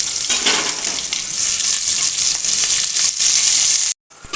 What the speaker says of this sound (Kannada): ಈರುಳ್ಳಿ ನಮಗೆ ಸ್ವಲ್ಪ ಫ್ರೈ ಆಗುತ್ತೆ.